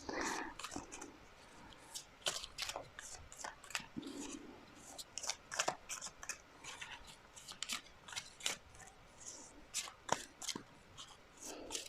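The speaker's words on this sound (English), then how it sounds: "these ones are a little bit harder to shuffle" A stiff deck of tarot cards is shuffled in the hands, giving repeated crisp riffling bursts and clicks at irregular intervals, close and quiet, with occasional soft speech.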